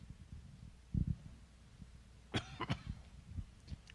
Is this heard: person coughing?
yes